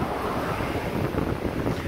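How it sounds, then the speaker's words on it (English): Pacific Ocean waves rolling in by a pier at night, a dense continuous wash of surf with gusty wind noise over the microphone, steady and fairly loud for two seconds with no voices. "This is the Pacific Ocean."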